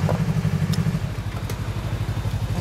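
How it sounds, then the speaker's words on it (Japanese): A motorcycle engine catches and settles into a rapid, throbbing idle close by, with a few light clicks at the start. "オッケーごめんエンジン起動してもらえる"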